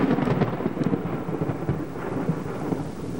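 A severe thunderstorm with hail, loud and close: a dense, continuous wash of heavy rain and hail hitting surfaces, with rumbling thunder swelling underneath and no voices.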